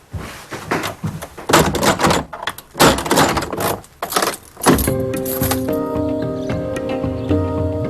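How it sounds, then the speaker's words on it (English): Indoors, a front door is shut: a run of loud knocks, thuds and rattles, then a firmer closing impact followed by a lingering resonant ring and faint background hum. "I'm just going to go shut the front door now."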